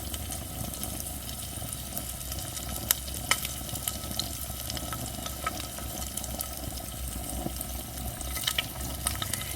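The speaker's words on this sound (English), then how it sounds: "This egg's been cooking at almost 3 minutes on the low heat." An egg frying in a pan on low heat gives a steady, soft crackling sizzle throughout, with occasional sharper pops and ticks over the continuous hiss.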